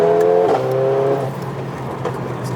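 A 440bhp Mercedes A45 four-wheel-drive hatchback revs hard close by, its engine note climbing then dropping with a gear change and settling into a steadier drone, with no talk over it.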